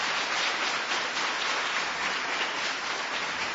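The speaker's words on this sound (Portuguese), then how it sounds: "Vamos aplaudir o Senhor por isso" A church congregation applauds after a children's presentation, a steady dense wash of clapping that fills the room evenly from start to finish with no voices standing out.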